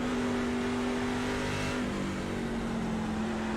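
A NASCAR race car in the iRacing game accelerating out of a corner, its engine note droning loud and steady, then shifting pitch as the throttle is fed in, with no talk.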